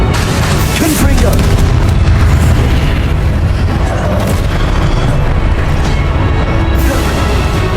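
Confringo spell explosions in the video game Hogwarts Legacy, a dense run of loud booms and bursts over continuous rumbling battle noise with no pause.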